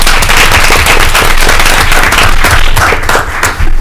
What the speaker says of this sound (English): let's just give a round of applause to all of our board members